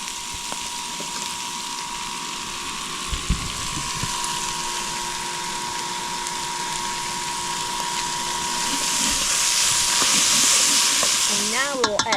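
Tomato paste frying in a pan of Czech sausage goulash on an induction cooker, a steady close sizzle and hiss with a faint electronic hum, swelling slightly toward the end amid a few utensil scrapes.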